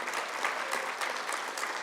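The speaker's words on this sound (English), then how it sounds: "Let's give her a round of applause" Brief, even applause from a luncheon audience at the Visit Chicago Southland annual meeting and award event, welcoming a new leader, steady and moderately distant for just under two seconds.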